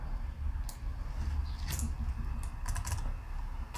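Fast computer keyboard typing while entering text for a Forex trading bot script, a run of light clicks scattered over steady low background hum, close to the microphone, with no voices.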